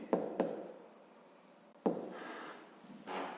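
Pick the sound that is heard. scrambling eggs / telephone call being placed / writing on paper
writing on paper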